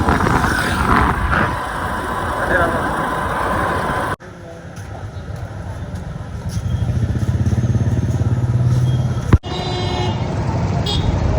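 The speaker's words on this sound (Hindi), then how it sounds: "अभी हम निकल गए हैं बाइक में लेके" A motorcycle rides through a busy market street in Gol Bazar, Bilaspur, its engine droning steadily and close while horns toot around it and traffic noise fills the background.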